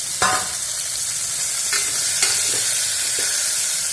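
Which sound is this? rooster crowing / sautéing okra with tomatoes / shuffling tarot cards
sautéing okra with tomatoes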